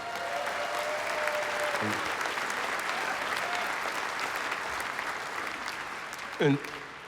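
An audience at a Lewis Black stand-up comedy show applauds in a sustained burst of clapping that fills the room for several seconds before fading, with a couple of brief vocal sounds over it.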